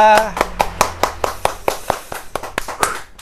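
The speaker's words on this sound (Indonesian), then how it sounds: "Tepuk tangan Bella." Roughly a dozen sharp hand claps in a steady, brisk rhythm, close by, with a voice speaking softly underneath.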